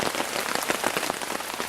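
Rain patters on a tarp shelter in the woods at night, a dense, steady crackle of close drops that stays even throughout without any speech.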